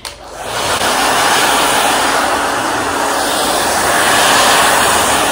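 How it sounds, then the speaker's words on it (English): A handheld blow dryer drying a man's hair after styling double strand twists, a loud steady broadband whoosh that starts up in the first half second and runs continuously and close. "just gonna take your blow dryer and blow dry it on out."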